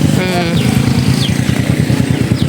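A motorcycle engine runs close and loud, its rapid, rhythmic putter steady throughout the short stretch, with faint sounds that may be voices in the background.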